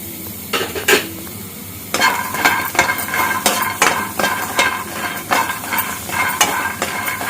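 Peanuts and half a coconut's worth of coconut pieces roast in a pan for peanut chutney, with a spoon stirring in repeated scraping, rattling strokes over a soft sizzle, close and clear, without any talking.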